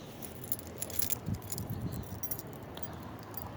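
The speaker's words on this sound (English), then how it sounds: "Keys out again. Alright," A bunch of keys jangles and clinks close by while being pulled out, with a few louder rattles in the middle and steady movement noise throughout.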